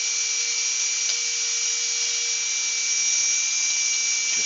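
A power tool chamfers the edge of a replacement wine glass stem, giving a steady, high-pitched, close machining whine that runs evenly and continuously with no talk.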